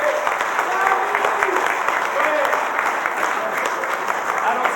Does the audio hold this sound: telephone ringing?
no